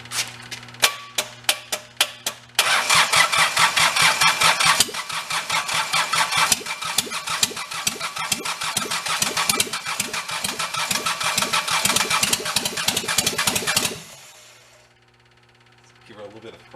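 A junk skid steer repowered with a mismatched engine cranks in several quick starter pulses, catches and settles into a loud, steady, chugging idle for about ten seconds, then cuts out to near silence before a brief faint sound.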